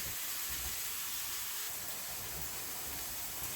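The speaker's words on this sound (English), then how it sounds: "the salt will probably bring out some of the liquid, and it will kind of self-cook and steam" Sliced summer squash steams in a pan with salt and a splash of water on high heat, making a steady, bright hiss that fills the short stretch without any voices.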